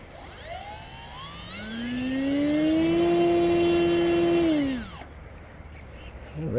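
A Great Planes Spectra electric RC glider's motor powers up on a calm, windless day, whining as it rises, holding a steady high-pitched drone for a couple of seconds, then spinning down abruptly, close and fairly loud.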